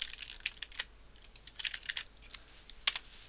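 Keys clatter on a computer keyboard in quick, irregular bursts of soft close clicks, fairly faint against a quiet background with no talking.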